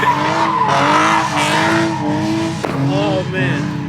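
A drifting car's tires squeal loudly and continuously as the engine holds high revs, the pitch sliding up and down through the slide, with people talking over it.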